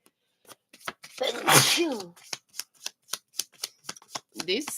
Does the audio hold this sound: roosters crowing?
no